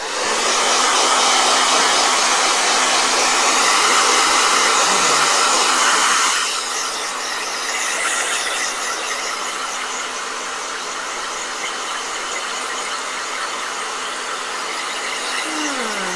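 A blow dryer runs loudly, drying a watercolor painting, then drops to a lower, slightly softer setting after about six seconds and keeps whirring steadily, with no talking.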